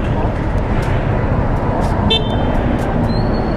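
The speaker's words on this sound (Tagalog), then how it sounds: "Pwede marinig yung busina mo?" Delivery vehicle horn honked at a pickup stop, a short toot rising briefly above steady close road and engine noise with traffic around; someone talks over it.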